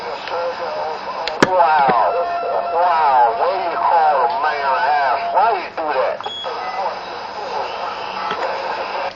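CB radio audio with a busy, warbling tone, wavering pitch sweeps and chatter running throughout, dense and fairly loud with a sharp click near the start.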